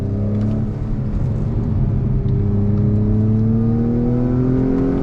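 A modified 2021 Acura TLX A-Spec accelerates on throttle through a decreasing-radius corner, its engine note climbing steadily as a loud, close drone heard from inside the cabin.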